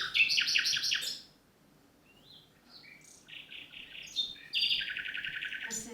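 A nightingale sings in bright, rapid bursts of chirps and trills, separated by a quiet gap in the middle. The song is fairly faint and clear, with no voices.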